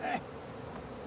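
Honey bees buzzing during removal of a colony from a flat roof, a faint, steady insect hum in the background with a slightly louder, higher buzz in the first moment.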